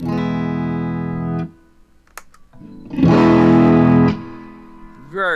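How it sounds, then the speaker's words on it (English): An electric guitar sustains a clean chord, then with a clean boost pedal switched on it rings out noticeably louder with extra top-end sparkle, up close with no talking. "It's basically a big clean boost, but it adds some sparkle to the top end"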